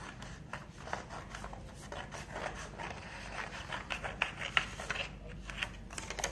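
Scissors trim the neckline of a paper bodice pattern, producing quiet, rapid snipping and rustling paper sounds in an irregular rhythm, close to the listener.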